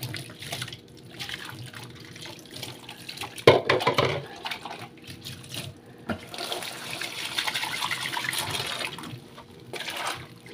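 Tap water runs continuously while dishes are rinsed at a sink, a close steady rush with a brief louder splash partway through and some clinking, with no voices.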